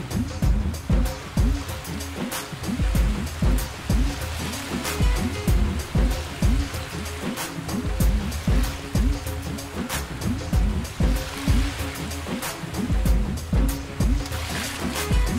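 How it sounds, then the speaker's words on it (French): Rushing water of small river rapids on the Ain during a kayak descent, a steady churning wash with repeated splashes and paddle strokes close by, no talking. "encore un petit rapide qu'il faut négocier pour ne pas arriver en tête à queue"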